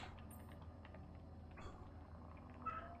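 A house cat meows softly, one or two brief faint calls heard against quiet room noise with no talking.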